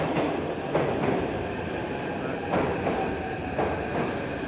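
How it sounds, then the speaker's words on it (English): A Kyiv metro train runs along its track, a continuous loud rumble and rattle with rhythmic clacks and brief squeals as the wheels pass joints. "the metro is functioning as normal."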